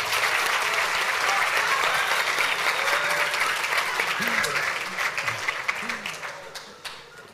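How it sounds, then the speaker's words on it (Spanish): A conference audience applauds in a dense sustained burst that gradually thins out into scattered claps, with faint voices underneath at the end. "Aplauso."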